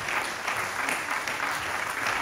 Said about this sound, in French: Je vous demande d'applaudir Monsieur Christian Brognard